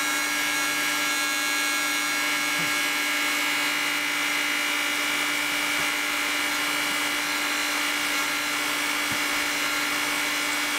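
A powder coating gun sprays Audi A4 car rims, giving off a steady, loud, unbroken hiss with a constant droning hum underneath for the whole stretch and no talking.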